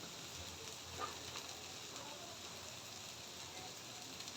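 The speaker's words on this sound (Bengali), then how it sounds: "মাছ ফ্রাই করে নিব" Belly pieces of rohu fish fry in oil, giving a soft, even sizzle with a few faint crackles and no voices.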